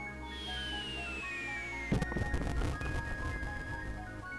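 A firework goes off in the Super Mario RPG video game: a falling whistle-like tone sweeps downward, then a bright crackling burst blooms and fades over game music.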